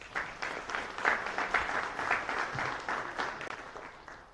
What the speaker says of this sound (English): just one more round of applause for Brendan up top